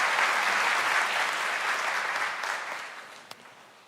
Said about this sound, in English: Let's give Prof another round of applause